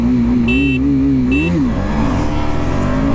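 KTM Duke 250 BS6 motorcycle accelerating hard through the gears, a loud close engine drone that rises and shifts pitch, with the rider's voice heard briefly over it.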